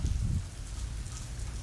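Steady, close rain pours down on wet camera gear and a bag at a waterfront pier, giving a dense hiss of drops with a brief low thump at the start and no voices.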